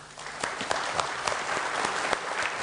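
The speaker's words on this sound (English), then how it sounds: "That applause almost kept going, didn't it?" Applause from a business gathering audience after a speech by the DMCC executive chairman, a sustained crowd clapping with some sharper individual claps standing out, moderately distant and even throughout.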